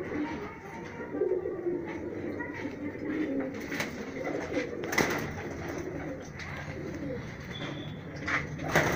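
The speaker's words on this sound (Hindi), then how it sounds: "ये मेल वो कबूतर दिखाओ आपको" High-flyer pigeons in Rajsamand, Rajasthan coo softly and steadily near the listener, with occasional brief calls rising above a low background murmur.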